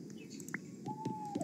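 An owl in the Roblox Bedwars game gives a short synthetic call, a brief chirp followed by a drawn-out whistling tone over quiet game background noise.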